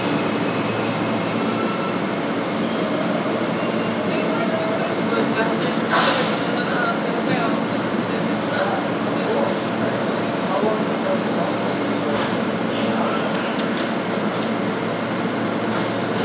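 A subway train rumbles steadily along the track, loud and continuous, with a brief squeal of wheels and faint voices in the background.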